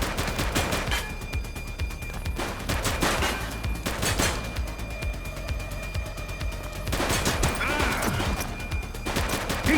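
Rapid automatic gunfire in the police video game The Precinct on PS5, with dense, loud bursts of shots near the start and again near the end and a sustained rattle between them.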